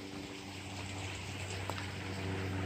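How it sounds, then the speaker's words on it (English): A river flows beside a campsite on the Appalachian Trail, a steady, even rush of water that stays constant throughout, with no voices. "The river"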